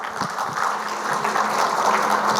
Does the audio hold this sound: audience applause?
yes